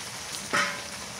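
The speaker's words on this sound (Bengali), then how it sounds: "এখন মাছটা দিয়ে দিই, ভাজা মাছটা দিয়ে দিই" Fried pangas fish pieces drop into hot oil and masala, setting off a brief close burst of sizzling over a steady low frying hiss.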